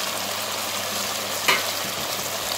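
Chicken wings with yogurt frying in ghee, a dense steady sizzle close up with one brief scrape or clink in the middle.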